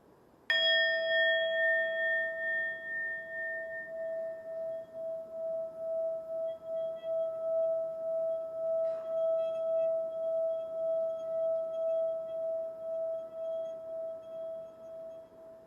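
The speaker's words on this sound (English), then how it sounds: "pay attention to the ringing of the bell." A single strike of a mindfulness bell rings out clearly in a quiet room, its pure tone sustaining and slowly pulsing as it fades over many seconds.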